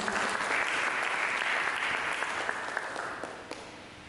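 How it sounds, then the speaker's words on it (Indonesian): A church congregation claps for Jesus during a sermon, a steady wash of applause that fades slightly toward the end, fairly distant and without speech. "Berikan tepuk tangan bagi Yesus."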